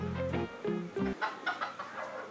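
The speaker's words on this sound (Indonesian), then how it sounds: "Yang nyaut malah ayam ya teman-teman ya." A chicken clucks several times close by at a house, a short series of throaty, rhythmic calls with no talking.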